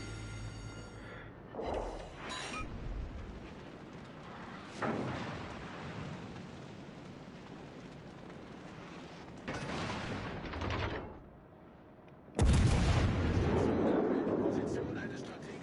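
Naval guns firing in World of Warships: Legends, several separate heavy booming salvos spaced seconds apart, the last one loudest and rumbling on, with quieter game ambience in between.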